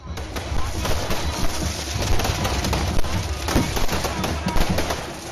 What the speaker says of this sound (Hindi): रंगारंग आतिशबाजी,